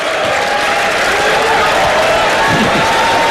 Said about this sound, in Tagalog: Calvin makes the crowd react.